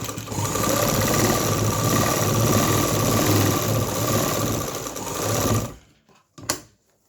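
Sewing machine running at a steady fast clip as it stitches the side seam of a kameez, loud and close for nearly six seconds before stopping, followed by a short clack.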